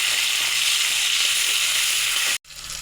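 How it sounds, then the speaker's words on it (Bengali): Onion and tomato frying in a pan: a loud, even, close sizzle hisses almost without change, then cuts off abruptly and returns much quieter. "পেঁয়াজটাকে একটু লাল করে ভেজে নেবো"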